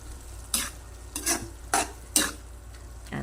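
Tomatoes sautéed with egg are stirred in a frying pan, with four or five distinct scraping strokes over a steady, quiet sizzle.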